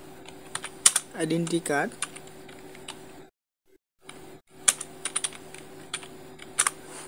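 Close, sharp clicks of a computer keyboard come in quick bursts, stop for a brief silence, then resume, while someone speaks over the start of the typing.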